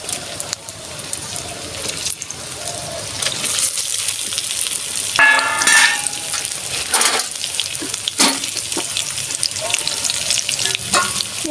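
Lightly pressure-cooked potato pieces frying in oil in a home kitchen, a continuous close sizzle with bursts of crackle and occasional scraping stirs.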